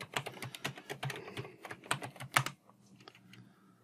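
Rapid clicking keystrokes on a computer keyboard as a password is entered, a close burst of taps that stops after about two and a half seconds, leaving a quiet room hum.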